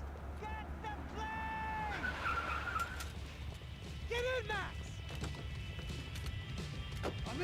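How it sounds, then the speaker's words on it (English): In the video game Max Payne 3, a car drives and skids with rising tire squeals and engine noise under tense shouted dialogue, and a steady low rumble runs throughout. "Just drive the fucking car!"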